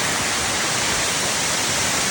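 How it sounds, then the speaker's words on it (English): A waterfall inside Gaping Gill cave gives a steady, loud, close roar of broadband rushing water, constant for the whole stretch with no voices over it. "That waterfall looks very close to the climb."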